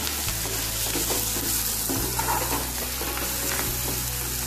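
Masala paneer sizzles loudly in a pan as turmeric, black pepper, black salt, chilli powder and salt are stirred in, a dense continuous frying hiss with scraping spoon strokes and a low steady hum underneath.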